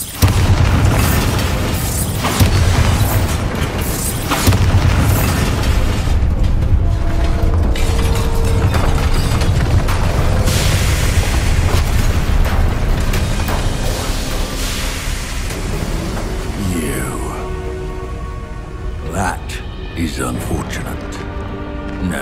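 A Bombarda explosion spell is cast in Hogwarts Legacy, giving loud, heavy booms and bursts within a dense, continuous wash of game action, with a voice speaking over the din.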